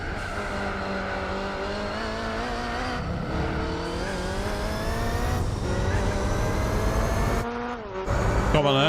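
Race car engines in Gran Turismo 4, a loud sustained high-pitched engine whine with rising revs and gear shifts, briefly dropping before surging again near the end.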